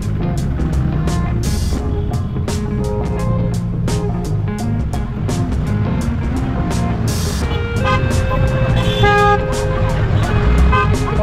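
Busy street traffic in Darjeeling, with cars and trucks rumbling close by, repeated short horn toots and beeps scattered throughout, and people talking over the steady road noise.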